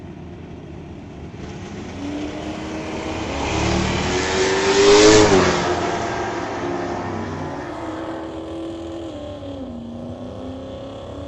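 Two classic drag cars, a 1968 Pontiac Firebird and a 1967 Ford Falcon, launch hard off the line at a strip race, engine roar swelling to a loud peak mid-pass and then fading as they pull away.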